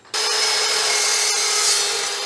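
A saw blade bites into 1/16 inch thick, 1/2 inch square tubular steel with a sudden start, then a loud, sustained, steady grinding whine close by that continues through the rest of the moment.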